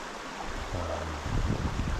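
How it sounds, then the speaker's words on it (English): A creek flows steadily past at close range, a broad rushing wash with a low wind-like rumble that swells slightly toward the end. "Got on the creek. Beautiful water here."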